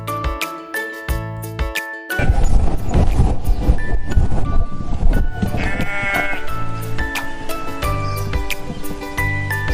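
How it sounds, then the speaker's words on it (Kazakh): Sheep bleat repeatedly in a farmyard, loud and close, with several overlapping cries, a faint jingle of bells and rustling in the background. "Қой."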